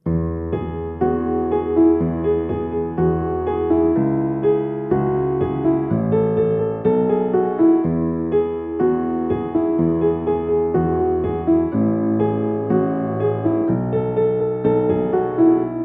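A piano plays the melodic interlude of a song, a steady melodic passage over sustained chords, moderately loud and continuous, with no voices.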